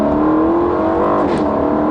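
An Aston Martin Vantage with an AMG V8 engine revs hard, a loud, close, continuous throaty roar that swells slightly in pitch, heard alone.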